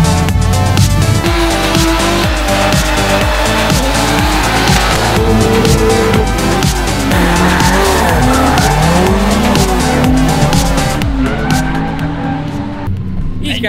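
Drift cars at a Hungarian drift event skid continuously with squealing tires and roaring engines, anti-lag systems popping and banging throughout, loud and dense with no pauses.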